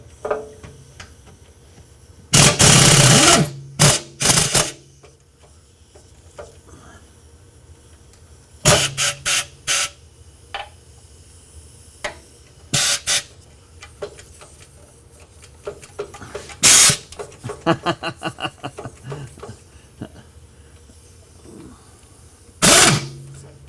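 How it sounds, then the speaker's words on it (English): A metal ratchet's butt end strikes a metal bar under a car during dismantling work, giving several sharp, loud clanks spread over the clip, with quieter rattles and tool clatter between them. "the butt end of my ratchet came down on it"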